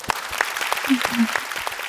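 Audience applause at a televised singing competition performance round, a short burst of clapping mixed with voices.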